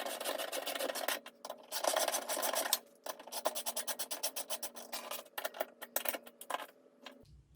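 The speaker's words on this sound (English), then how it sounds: "you could finish off tightening the bolts with your ratchet and the 13mm" A hand ratchet with a 13mm socket tightens the cutting deck spindle bolts on a John Deere D105 riding mower with an aluminum spindle casting, making close, steady rasping clicks in bursts that shorten into quick strokes, with no talking.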